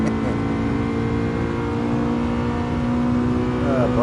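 A car engine in the Gran Turismo Sport racing game revs hard into its VTEC range, giving a steady, loud, high-pitched drone that climbs slightly toward the end.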